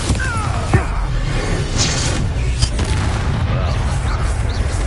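A Bombarda spell blast in Hogwarts Legacy, a punchy booming explosion early on followed by scattered impacts and crackling combat effects, loud and close over the game's battle din.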